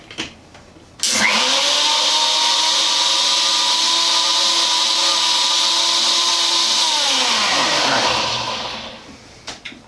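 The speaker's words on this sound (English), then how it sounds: "We're going to put the lid on, and we're going to puree this." A countertop blender purees peppercorns, thyme, clove and cinnamon for a vegetable mole, a loud steady whirring motor that starts abruptly, holds for about seven seconds, then winds down and stops.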